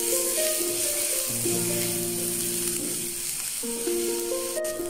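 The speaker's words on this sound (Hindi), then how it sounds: "उसके लिए हमने एक पैन में एक चम्मच ऑयल लिया है, उसमें हम अदरक लहसुन का पेस्ट ऐड करेंगे एक चम्मच" A spoonful of ginger garlic paste frying in a spoonful of oil in a pan gives a soft continuous sizzle, partly under a melodic tune running throughout.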